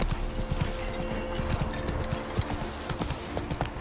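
Roach the horse gallops in The Witcher 3, hooves pounding in a fast, even clip-clop rhythm that stays close and loud throughout, without any voices.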